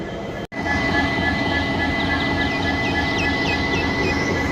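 A WDP4D diesel locomotive rumbles steadily nearby hauling a Madurai–Bodinayakkanur passenger train, a deep continuous engine drone with a brief dropout near the start and faint high squeals above.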